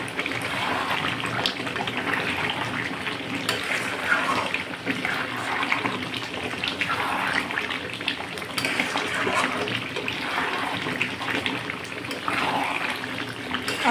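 Water being added to a pot of chicken curry with taro, a steady, moderately quiet pouring and splashing that runs continuously, with a faint voice in the background.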